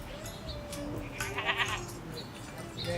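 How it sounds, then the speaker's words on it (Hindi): Young goat kids bleating at an old Aryan house in Kargil, a few faint high cries over steady outdoor background noise. "जहाँ मुझे ये प्यारे से बकरी के बच्चे भी दिखे।"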